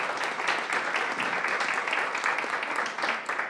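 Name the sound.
audience applause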